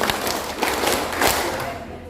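Hand claps in a group clapping game in a classroom, a few sharp claps spread through the moment over crowd noise and talk.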